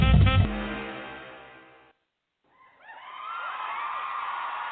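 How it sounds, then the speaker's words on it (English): Crowd cheering and whooping in a loud opening burst that fades into silence, then a second swell of excited cheers and whoops that builds and holds to the end. "Listen to that crowd."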